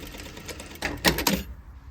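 Domestic sewing machine back tacking the end of a seam on an angled side pocket, a short close burst of rapid mechanical stitching, three quick loud pulses before stopping into quiet.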